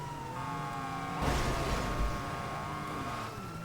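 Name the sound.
police car driving and rolling in video game GTA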